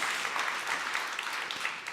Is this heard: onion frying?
no